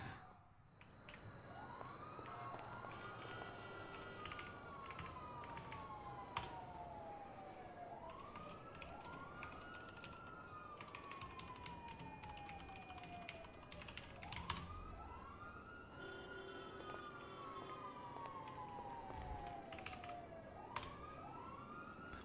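Police car sirens in a video game wail in repeated rising-and-falling sweeps, heard from a distance over a faint background hum, with occasional soft clicks and no talking.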